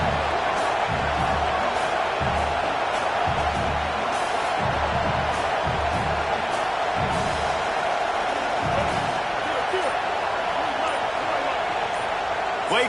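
Constant roar of a football stadium crowd during a 4th down play, loud and dense throughout, with a commentator talking over it and faint bouncing thumps mixed in.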